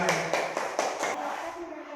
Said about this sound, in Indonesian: Dikasih tepuk tangan ayo.